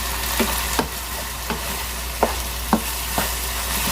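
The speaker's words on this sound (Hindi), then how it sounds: "अभी हम इसको इसी में भुनाई करेंगे।" Chicken keema with salt, turmeric and dried coriander frying in a pan: loud constant sizzle broken by half a dozen sharp spatula scrapes and knocks at a loose, uneven pace.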